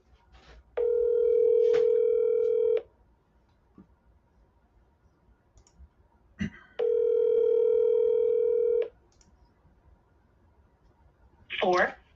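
A cell phone call ringing out through a handset earpiece: two long, even ring tones about two seconds each with a pause between, followed by a brief electronic burst, with no talk over them.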